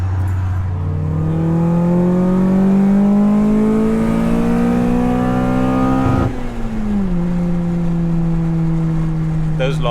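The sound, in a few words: K20-swapped Honda Jazz engine revving high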